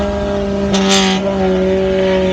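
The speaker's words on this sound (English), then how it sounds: "The thing's very loud. It's straight pipe right from the turbo." A gutted Galant VR4 with a turbocharged 4G63T, straight-piped from the turbo, makes a very loud, steady tonal drone. A short hissing burst rises over it partway through.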